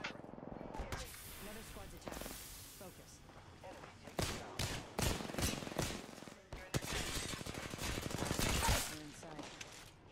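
Apex Legends gunfire rattles in rapid automatic bursts and scattered single shots, loud and close, with mechanical clacks between volleys. A player talks over the shooting.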